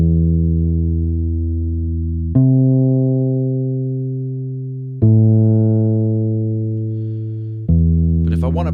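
Deep, sustained amp-toned notes from the Shreddage 3 E-Upright electric upright bass plugin, four long plucked tones each ringing out and slowly decaying, played alone with no talking.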